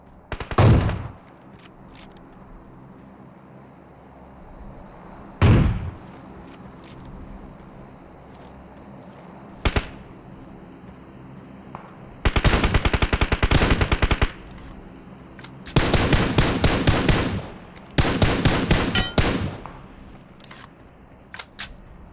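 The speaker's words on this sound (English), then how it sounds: "Who are you shooting?" Gunfire in the video game PUBG: scattered single shots at first, then several long rapid automatic bursts, loud and close, with no talking over them.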